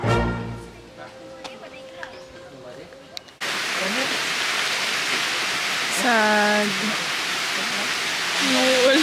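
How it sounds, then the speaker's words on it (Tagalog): Sudden rain falls outdoors as a dense, steady hiss of drops, loud and close, with people talking briefly over the downpour. "Kaso biglang umulan."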